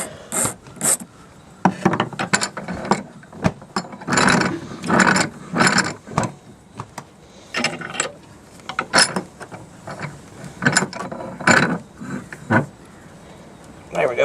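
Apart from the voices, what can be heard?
clamping horseshoe nail pendant in a bench vise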